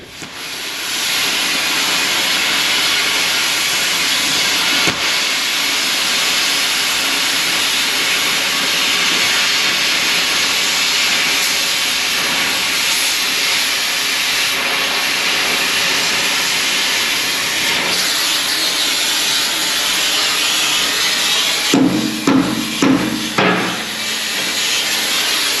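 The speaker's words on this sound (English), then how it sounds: "So we're going to do some cutting here, do some grinding" Thin scrap metal being cut and ground, a loud steady hissing grind that runs continuously for about twenty seconds, then breaks into a few short rough bursts near the end.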